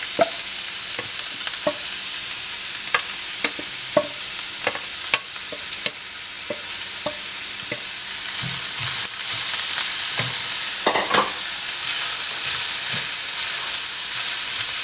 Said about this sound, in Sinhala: ෆ්‍රයි පෑන් එක හොඳට රත් වුණාම තෙල් මේස හැඳි එකමාරක් දාලා අපි මේ අනියන් ටික කුක් කරගන්න ඕනේ